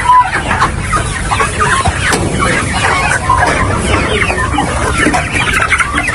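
Chicks and chickens of mixed ages in a small growing pen on a farm cluck and chatter continuously at close range, forming a busy, layered flock murmur.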